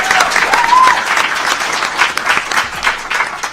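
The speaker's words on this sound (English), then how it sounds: "Let's give Madeline a round of applause" An audience at a policy summit lunch plenary claps steadily. The dense applause stays loud for the whole stretch without fading.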